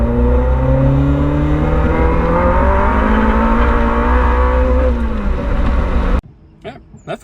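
K-swapped Mini Cooper on nitrous accelerating hard with tires spinning, a loud close engine roar rising steadily in pitch for several seconds, then cutting off abruptly into quieter knocks and handling noise.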